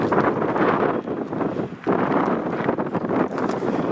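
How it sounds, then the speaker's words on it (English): Strong wind blows steadily and buffets the microphone in loud gusts, briefly easing for a moment before roaring back. "I know it's windy"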